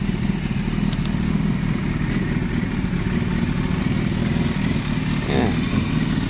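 A small Italjet Formula motorbike pulls away on a Saturday morning, its engine a steady, fairly loud mid-pitched drone that runs continuously from start to finish with little change.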